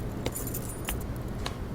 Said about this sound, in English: Dad just snorted in reply and left, ringing with the keys he just found